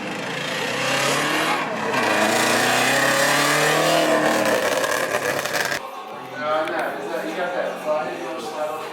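Cars race at a car meet, one of them a Tesla, giving a loud, sustained engine and road roar close by that fades after a few seconds, with people talking over much of it.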